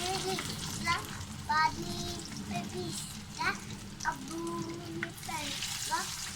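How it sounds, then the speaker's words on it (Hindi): Spiced fish frying on a low flame in a home kitchen, a soft, steady sizzle with occasional stirring scrapes, sitting under background voices and a child's chatter. "तो इसको मैं लो फ्लेम पे फ्राई करूँगी।"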